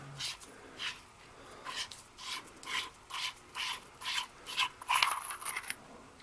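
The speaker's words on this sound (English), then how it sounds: "See if I can take the barrel off of the head." Metal barrel of a Wurkkos DL30 flashlight being unscrewed from its head, a series of short close grinding thread rasps in an irregular rhythm, quiet, with no talking.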